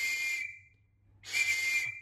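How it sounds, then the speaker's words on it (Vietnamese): Chrome-plated brass British police whistle blown twice, each a shrill, piercing tone with breathy hiss lasting about half a second to a second, separated by a short gap, close and alone. "Còi này chất liệu bằng đồng mạ chrome nha."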